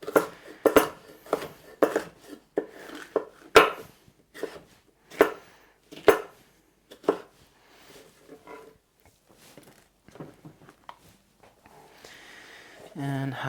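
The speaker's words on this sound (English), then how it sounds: "Half I'm going to cut into strips." A knife cuts food into strips on a cutting board during kitchen prep, a run of sharp, close chopping taps and clacks that thins out into quieter handling noise, with a brief louder knock near the end.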